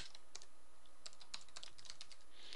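Keys clatter on a computer keyboard during Java coding, quick irregular clicks in short bursts, close and fairly quiet, with no talking.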